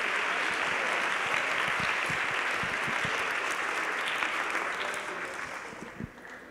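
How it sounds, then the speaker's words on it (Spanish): A university audience applauds the rector at a student event and awards ceremony, a dense, even round of clapping that fades somewhat toward the end. "Un aplauso para el maestro Mario Ernesto Patrón Sánchez."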